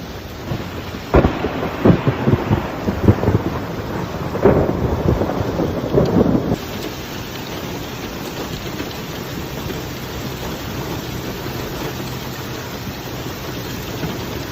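Thunderstorm with heavy rain in Saudi Arabia: loud rolling thunder cracks over the first half, then a steady hiss of rain continues alone with no voices.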